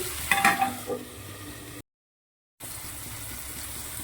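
Tomato sizzling as it fries in a pan, a steady near hiss of frying with brief stirring scrapes early on, and a short gap of silence partway through.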